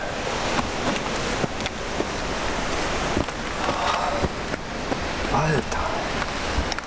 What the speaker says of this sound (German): Wenn ich das Wasser da unten rauschen höre jetzt